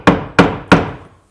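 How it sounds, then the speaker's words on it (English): A mallet strikes a ceramic tile mat on a drywall wall three times to tap it flush, each blow a sharp, close thud with a short decaying ring, evenly spaced about a third of a second apart. "I'm just going to go ahead and take this mallet"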